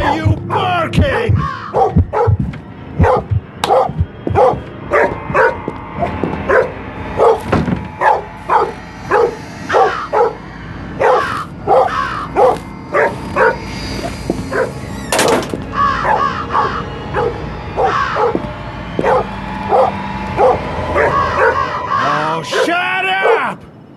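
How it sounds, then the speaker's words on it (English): A dog barks repeatedly in the Metel Horror Escape video game, sharp rhythmic barks spaced through the clip over a steady background ambience. "why the hell are you barking?"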